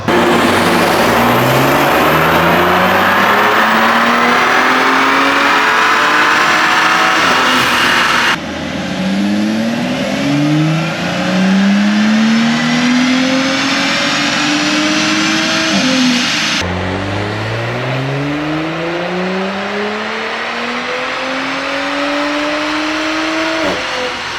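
An Audi B9 S4 tuned to Stage 1 on E85 with bolt-on parts revs hard on a dyno in three loud, sustained wide-open runs, each climbing in pitch before cutting off, up close with a constant roar.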